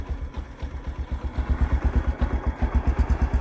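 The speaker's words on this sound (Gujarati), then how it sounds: "ખબર ના પડી બાઈક આવીને ઊભું થઈ ગયું" A motorcycle engine idles close by with a steady, rapid low putter that grows slightly stronger and more even.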